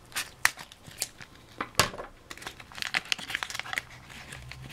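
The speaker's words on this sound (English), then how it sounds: "Looks like there's room on the top for me to cut." A Pokémon card pack wrapper is cut open, giving close crinkling foil-plastic rustles, a few sharp snips and tearing crackles in quick succession, with no talking.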